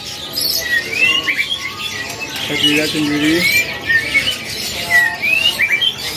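Male oriental magpie-robin singing at a kiosk in Pramuka bird market, Jakarta, with repeated bright whistled phrases and chirps rising over busy background chatter, while someone talks nearby.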